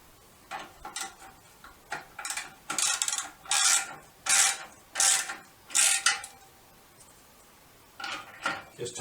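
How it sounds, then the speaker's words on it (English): A clamp is tightened on a Cobra Dual Cut muffler fitted to a Sport Glide motorcycle. About eight crisp, close ratcheting bursts come in an even rhythm, with brief pauses between strokes. "Just tighten up the clamp"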